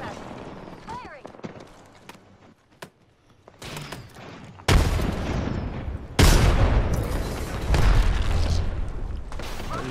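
Gunfire in the Apex Legends video game: sharp shots and booming bursts, sparse at first, then a dense, loud stretch of rapid firing over the second half.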